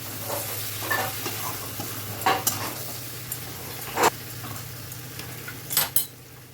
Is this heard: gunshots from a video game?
no